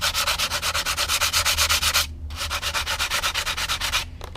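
Sandpaper rubs back and forth on a Guillow P-47 model airplane, fairing in spackle. The strokes are rapid, regular and rasping, heard close up, with a brief pause partway through and no voices.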